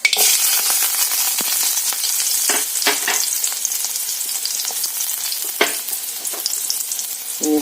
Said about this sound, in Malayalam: അതിലേക്ക് നമുക്ക് അരിഞ്ഞു വെച്ചിരിക്കുന്ന ചുവന്നുള്ളി ചേർത്ത് കൊടുക്കാം